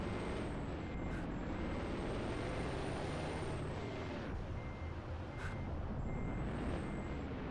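Heavy truck in American Truck Simulator backing up, with a steady engine drone, sharp air-brake hisses and repeating reversing beeps throughout.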